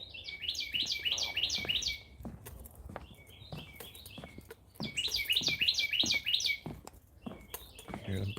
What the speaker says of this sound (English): Hear the birds chirping away